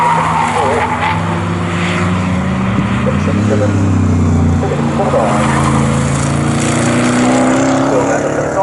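Morgan race cars at Snetterton circuit roaring past the start-finish line, loud close engine drone with shifting pitch and tyre squeal as cars pass in quick succession, under a commentator's voice.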